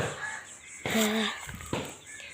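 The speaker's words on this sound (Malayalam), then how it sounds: "അല്ല, ഒരു കോഴി ഉണ്ട്." A hen gives a couple of short, close clucks in quick succession amid quiet background sounds.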